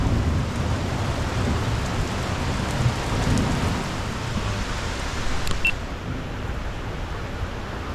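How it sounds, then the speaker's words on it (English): Heavy rain pours steadily on surfaces during a storm, with distant thunder rumbling low beneath the constant hiss and a brief crackle near the end. "And there's some lightning and thunder going on."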